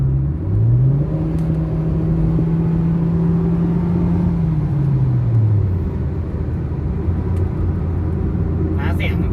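A Honda Jazz GK with an aftermarket JTC exhaust revs up and holds a throaty, rising drone before easing back down, with steady road rumble underneath.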